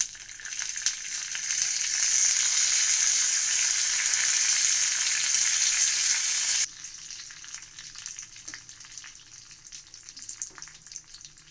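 A tempering of mustard seeds, coriander seeds, crushed garlic and curry leaves frying in hot oil crackles with a bright, dense sizzle for several seconds, then drops abruptly to a quieter, sparser spitting.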